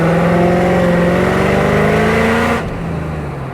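A supercharged Mercedes E55 engine revs hard and steady, partly held back from full throttle, with a loud rising whine, then cuts off sharply near the end into a low rumble.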